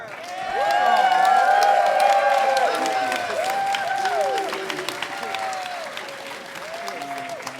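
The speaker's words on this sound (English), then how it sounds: "How about some applause" An audience applauds the choir director at a spring community chorale concert, loud sustained clapping with cheering that slowly tapers off, while people talk over it.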